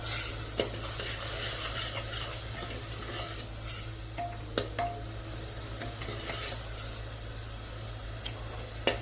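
Masala roasting in a pan for a mixed dal, with a steady soft sizzle, occasional scraping and clinking strokes of the stirring spoon against the pan, and a low background hum throughout, no talk.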